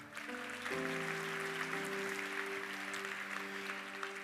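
Steady applause from an audience at a youth church conference in Indonesia, a sustained wash of clapping hands lasting several seconds, with a low musical hum underneath.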